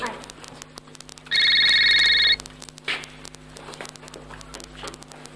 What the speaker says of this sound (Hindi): ये बेल जा रही